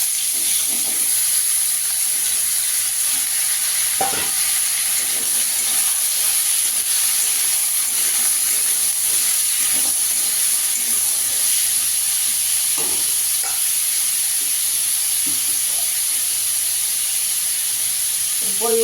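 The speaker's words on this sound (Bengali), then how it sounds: "গোটা জিরে ফোড়ন দিয়ে দেবো। এখানে ওলকপি আলুটা দিয়ে দেবো।" Loud, steady hiss and sizzle of kohlrabi and potato frying in hot oil tempered with whole cumin seeds, continuous throughout with faint clatter underneath.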